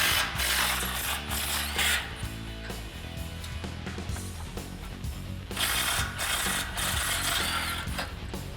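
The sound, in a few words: ratchet removing 13mm exhaust flange bolts on Ford Raptor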